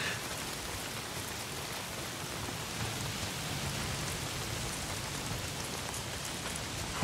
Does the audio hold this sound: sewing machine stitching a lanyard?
no